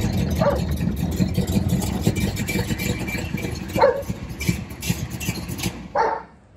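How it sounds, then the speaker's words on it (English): Engine of a 1930 coupe idling and rumbling steadily as it pulls into a garage, close and continuous, with a few short dog barks cutting in. "I got to pull the car in the garage now"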